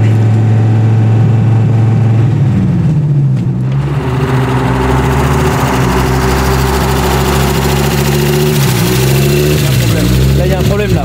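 A car engine in a video game with a blown connecting rod, a loud continuous mechanical drone that shifts pitch as revs change, heard close with a person talking over it.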